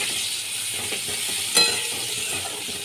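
Chopped onions fry in a pan for jhinge aloo posto, a steady close sizzle with one brief metallic clink partway through.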